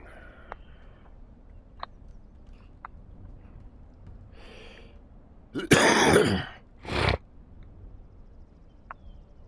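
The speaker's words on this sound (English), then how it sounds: "that was a cough I just didn't want blasting your ears out" Two sharp, loud coughs close by, the first longer and harsher, in an otherwise quiet room with a few faint clicks.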